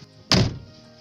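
A single close, solid thunk as the car door of an Audi 80 B3 swings shut, a short sharp impact followed by a brief fading rattle.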